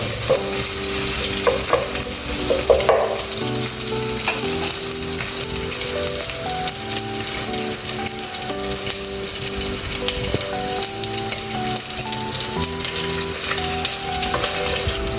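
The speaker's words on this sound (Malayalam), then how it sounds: "പച്ചമുളക് അതിൻ്റെ കറിവേപ്പില എന്നൊന്ന് വാടി വെക്കുക" Green chillies and curry leaves sautéed in a pan for chicken perattu, a steady close sizzle of frying with occasional stirring scrapes running throughout, no voices.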